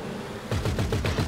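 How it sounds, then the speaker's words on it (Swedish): Rapid gunfire bursts out in the video game Insurgents heist setup, a quick run of about six sharp shots in steady rhythm after a short quiet moment, loud and close. "De skjuter ju fan."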